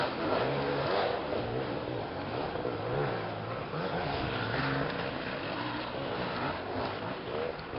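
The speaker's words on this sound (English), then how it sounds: "Cody's got his brand new 2-stroke beta" A brand-new Beta two-stroke dirt bike engine revs steadily with a buzzy, rising and falling mid-pitched drone. The sound is continuous and fairly loud, and no voices are heard.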